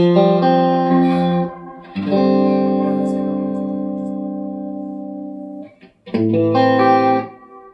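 Sustained guitar notes and chords colored by a short, subtle reverb from a Nucleo reverb pedal set with short decay and low mix, trailing off briefly as each phrase ends.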